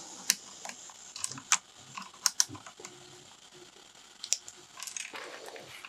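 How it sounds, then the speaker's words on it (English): Keycaps are pried off a computer keyboard one by one, making sharp, scattered plastic clicks and snaps at irregular intervals, close up over a quiet background with no speech. "pop this down on the existing keys and pull them off."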